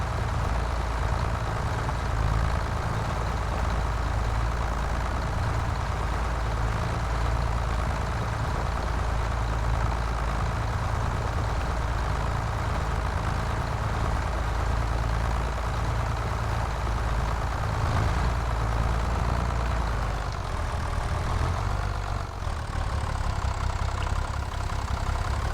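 A tractor engine in Farming Simulator 25 runs steadily at a low, even idle throughout, close and constant, with a slight change in tone near the end and no talk.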